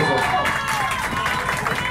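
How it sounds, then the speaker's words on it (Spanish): An audience claps and cheers for Kevin aboard the Triton yacht, a steady roar of clapping under an excited voice calling out. "Un aplauso para Kevin"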